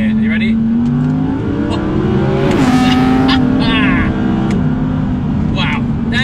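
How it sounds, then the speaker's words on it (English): A 2019 Audi R8 V10 Performance with its naturally aspirated V10 engine revs and pulls hard in second gear, the engine note rising and then dropping back at close range, with someone talking over it. "while it still has obviously retained that characterful V10 engine tone"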